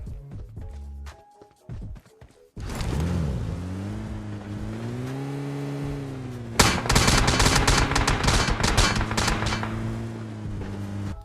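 Gunfire and an engine in a battle royale game, PUBG solo first-person, as shots hit a car near a house; a steady droning motor underlies a dense burst of loud, rapid shots in the latter half.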